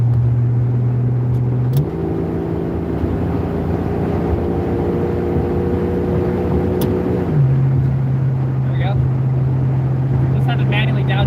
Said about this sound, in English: Manually downshifted so I can get back up to speed again